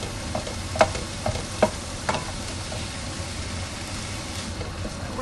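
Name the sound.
frozen ground meat being chopped up while frying in pan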